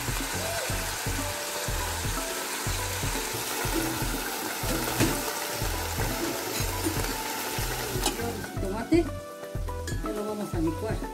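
Pork trotters sizzle and fry in a pan as they are stirred and browned, a steady crackle overlaid with rhythmic scraping strokes, loud and close throughout.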